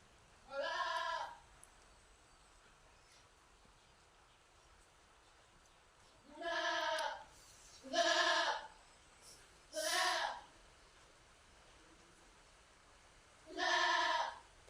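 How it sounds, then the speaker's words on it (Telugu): A goat bleating nearby in a rural village, five separate loud cries spaced a few seconds apart over a quiet outdoor background. "పక్క నుంచి మేక ఎక్కడ అరుస్తుంది."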